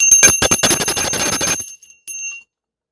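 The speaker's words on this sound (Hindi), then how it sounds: "घंटी बजाइए।" A small worship bell is struck rapidly and loudly in a steady clatter of bright metallic rings for over a second, stops, then gives one short final ring.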